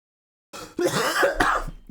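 A person clears their throat and coughs, a short burst after silence followed by two rougher, louder hacking pushes close to the microphone.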